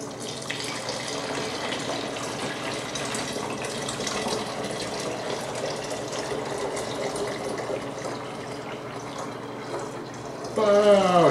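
Warm water runs steadily into a bottle containing sugar and baking soda for a DIY aquarium CO2 reactor, a continuous close gushing pour that ends with a brief voice.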